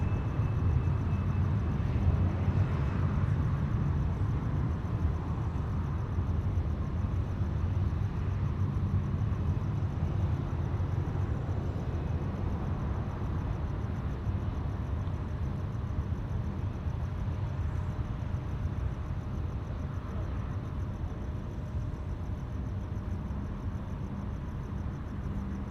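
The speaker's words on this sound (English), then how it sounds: "Cathay 138 now cleared for takeoff" Cathay Pacific flight 138 airliner taking off at night at Sydney Airport, a steady broadband jet engine roar lasting throughout, fairly distant and even in level with no talk over it.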